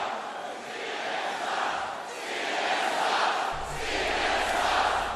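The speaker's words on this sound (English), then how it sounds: "You can hear them, the crowd chanting, CNN sucks, CNN sucks." A rally crowd in the desert chants in rising and falling waves, a distant massed roar of voices repeating a rhythmic slogan, with a low hum entering near the end.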